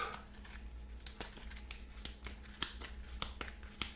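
A deck of game cards is shuffled close by, giving a run of quick papery flicks and snaps with soft crinkling between them, with no talk.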